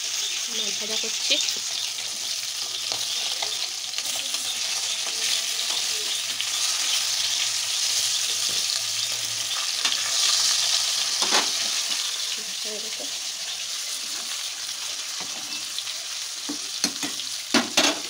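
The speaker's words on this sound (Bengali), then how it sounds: "মাছ ভাজা করছি।" Fresh pond fish frying in a pan, a steady loud sizzle and crackle that runs continuously, with occasional stirring clinks and faint voices in the background.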